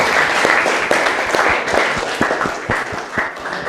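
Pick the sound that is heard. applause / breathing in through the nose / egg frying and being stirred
applause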